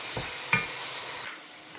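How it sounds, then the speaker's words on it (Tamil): Food frying in a pan sizzles up close, with two quick scraping stirs early on, then the sizzle eases and fades after about a second and a quarter. "இதை இதுலேயே அப்படியே நல்லா ஃப்ரை பண்ணணும்"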